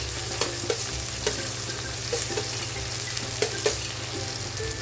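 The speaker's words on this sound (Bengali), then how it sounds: "এখন আমি দিয়ে দেবো কেটে রাখা টমেটো টমেটোটা সফট হওয়া পর্যন্ত ভালো করে কষিয়ে নেবো" Chopped tomatoes sautéing in a pan, a continuous sizzle with repeated sharp clicks and scrapes of a spatula stirring at an uneven pace, close up and with no talk.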